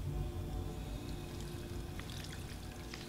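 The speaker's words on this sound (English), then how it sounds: "So might as well get drinking some water." Water being drunk in the video game Fallout 4: a steady pouring, trickling wash of liquid running continuously for a few seconds with no talk.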